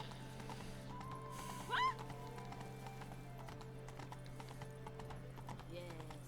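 Hooves of the horse Roach clip-clopping at a gallop through city streets in The Witcher 3, a steady rhythmic beat under game music, with a brief whinny partway and a voice talking over it.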